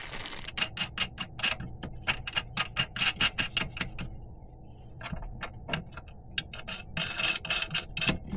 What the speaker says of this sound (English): just temporarily throwing some bolts in to hold it